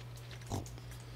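A pig in the Stardew Valley farming game gives a single short oink midway, clear against a quiet steady game background hum.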